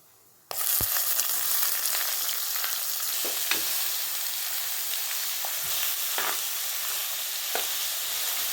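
Finely chopped onions drop into hot oil with a sudden loud sizzle. Steady frying follows, with a few clicks of stirring.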